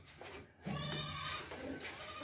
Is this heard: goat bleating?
yes